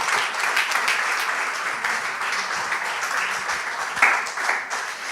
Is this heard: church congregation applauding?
yes